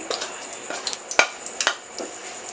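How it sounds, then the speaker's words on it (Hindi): Cumin seeds hit hot oil and sizzle with a soft steady hiss, broken by scattered pops and the sharp clink of a spoon stirring against the pan. "अब इसी गर्म ऑयल में हमने जीरा डाल देना है।"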